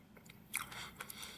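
A bite into a crunchy honey pastry with sesame seeds and a filling gives a short, close crisp crunch followed by a few soft chewing crackles, quiet and alone.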